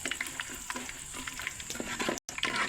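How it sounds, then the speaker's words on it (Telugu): Oil sizzles steadily in a pan while a spoon stirs, with soft scraping and light crackles from tempering spices frying, close and fairly quiet. "తాలింపు ఫ్రై అయిపోయిందండి"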